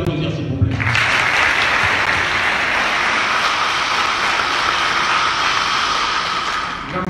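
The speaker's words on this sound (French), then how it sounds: "je vous demande de les applaudir s'il vous plaît" A conference audience in Ouagadougou bursts into loud, sustained applause after a brief moment of quiet, the dense clapping holding steady for about six seconds before easing slightly at the end.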